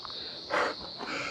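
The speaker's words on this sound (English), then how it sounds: "I don't know if you can hear all those crickets in the background." Steady, dense cricket chirring fills a bush camp in Morton National Park, a loud continuous high-pitched buzz with no talking.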